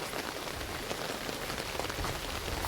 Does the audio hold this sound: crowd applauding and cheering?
no